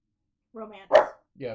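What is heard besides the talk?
dogs barking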